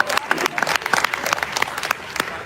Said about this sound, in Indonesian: Boleh kasih tepuk tangan sekali lagi.